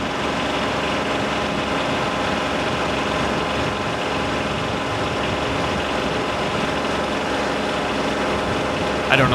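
A Kubota B2601 compact tractor engine idles steadily throughout, a continuous close rumble with even vibration while a post hole digger is being attached, with no talk over it.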